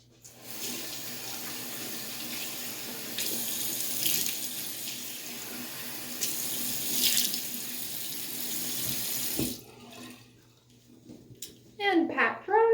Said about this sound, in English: I'm just gonna quickly rinse